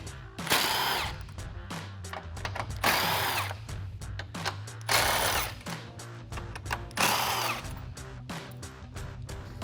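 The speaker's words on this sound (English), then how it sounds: "I'm switching over to an impact gun and a deep socket" An impact gun with a deep socket removing 10mm grille bolts on a 2014-2015 Chevrolet Silverado 1500: four loud rattling bursts of hammering close by, with ratcheting and handling noise between them.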